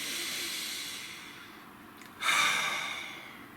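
A single deep breath, a soft steady exhale that fades and then a louder rushing inhale or sigh near the end, close to the microphone with no talking.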